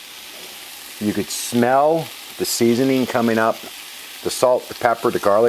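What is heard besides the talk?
onions and seasoning sizzling in a pot for minestrone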